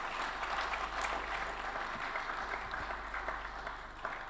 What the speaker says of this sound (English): I strongly believe that he deserves a better round of applause